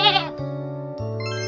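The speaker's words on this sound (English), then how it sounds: "Goat." A goat bleats once, short and close, over a steady layer of soft background music.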